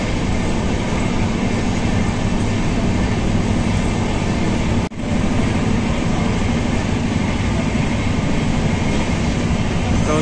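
Una Janshatabdi Express running at high speed, a loud continuous roar of wheels and rushing air heard from on board, with a brief sharp dip midway and no talking.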